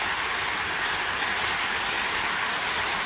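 A model train runs around a Christmas layout, giving a loud, continuous rolling and rattling hum with no break and no voices.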